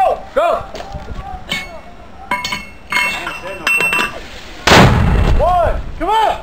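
Mortar rounds fired by soldiers in Afghanistan, sharp close blasts and metallic clinks amid shouted voices, with one heavy booming burst near the end.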